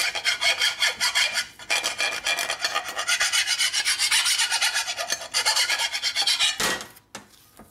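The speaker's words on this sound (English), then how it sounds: "You can tell by the noise where the high spots are. That's a nice fine file." A fine file rasps back and forth over a chromed part from a Harley panhead motorcycle in a machine shop, loud repeated scraping strokes with short pauses between them.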